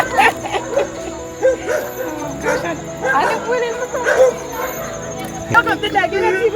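Dog barking repeatedly amid the aftermath of Hurricane Melissa in Jamaica, sharp yips and woofs mixed with people talking nearby, close and fairly loud.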